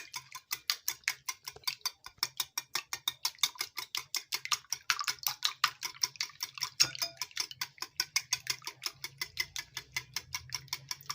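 Three eggs beaten in a bowl for egg halwa with khoya, a fork or whisk clicking against the bowl in a fast, steady rhythm of close, crisp ticks throughout, with no talking.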